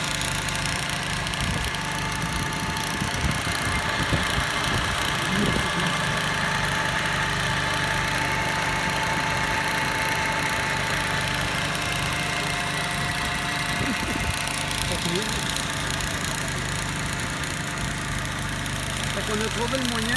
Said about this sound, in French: On a trouvé le moyen de faire tourner des transmissions, de faire marcher des ponts arrière, puis des systèmes de relevage avec un moteur électrique.